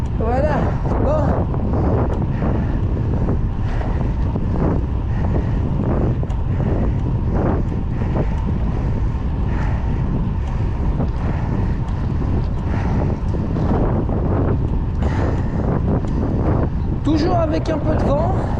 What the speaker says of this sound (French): Toujours avec un peu de vent.